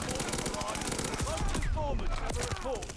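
Quick bursts of gunfire from a Cooper Carbine in Call of Duty, sharp repeated shots mixed with other game sounds at moderate level, with a voice speaking over them.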